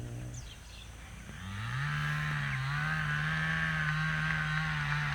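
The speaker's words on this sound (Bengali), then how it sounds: "সনবনগুলো কাটা হচ্ছে, সেটার জন্য মেশিন ইউজ করতেছে" A machine clearing forest vegetation in the Sundarban gives a droning engine hum that dips, then climbs in pitch and holds as a steady, somewhat distant tone with a faint higher whine above it.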